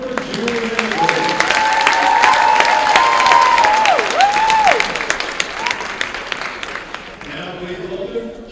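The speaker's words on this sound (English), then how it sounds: "Let's have a round of applause for Julie Henry." Crowd applause at a high school girls' basketball game between Central Catholic and Nelson, a steady sustained clapping wash with cheering while an announcer's voice carries over it, fading toward the end.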